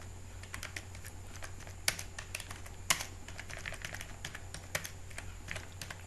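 Steady typing on a computer keyboard, with quick uneven key clicks and a few heavier strikes, set over a constant low background hum.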